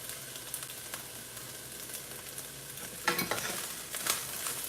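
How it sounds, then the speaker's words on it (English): Peas, carrots and white onions sizzle quietly in a pan with a soft, steady hiss. Two louder scraping stirs come near the end, and no one speaks. "and then I'm also going to add my onions, my white onions"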